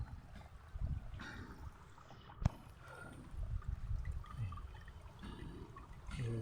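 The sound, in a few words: small waterfalls flowing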